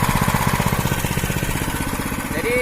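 A motor cultivator tills and scrapes farm soil into raised beds, its engine chugging loudly and steadily with a rapid, even pulsing rhythm close by.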